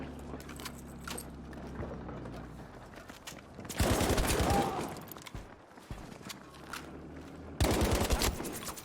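A machine gun fires suppressing fire in Battlefield V: two loud, close, rapid bursts of automatic gunfire, each lasting about a second, between quieter stretches of game sound.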